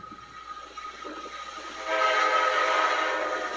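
A train plays from a video on a computer: a low rumble at first, then a loud sustained train horn takes over in the second half.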